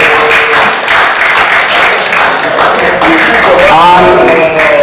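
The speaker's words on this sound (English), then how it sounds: "I think the INEC chairman deserves a resounding applause." Applause rises from an audience at a graduation anniversary gathering, loud and sustained across the whole stretch. Voices and some tonal sound mix into the clapping toward the end.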